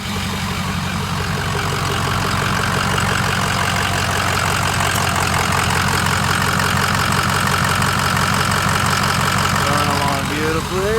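A lifted 2007 Ford F-350 truck idles steadily at close range, its engine rumbling through the exhaust as a continuous low drone that holds even for about eleven seconds.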